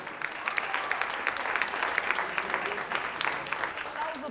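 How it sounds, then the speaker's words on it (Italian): A studio audience at a televised band contest applauds a performer, a steady spread of clapping with sharp individual claps standing out, while a voice speaks over part of it. "Applauso per lui"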